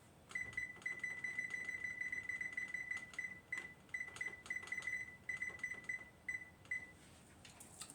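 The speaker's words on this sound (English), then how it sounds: "Set my timer." A digital kitchen timer is set for thirty minutes while mini zucchini loaves bake, giving a run of short, high, evenly spaced beeps close by over a faint room hum.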